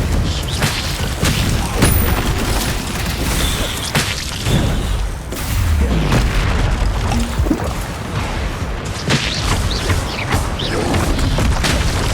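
Confringo blasting-spell explosions from the Hogwarts Legacy video game: loud, repeated booming blasts and crackling impacts over dense, continuous combat noise.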